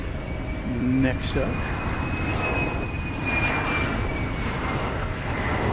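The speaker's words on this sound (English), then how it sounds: "American 1687 from Los Angeles, and Airbus A321 is" An American Airlines Airbus A321 arriving from Los Angeles at Dallas-Fort Worth airport roars steadily with a sustained engine drone and a high whine, while someone talks briefly over it.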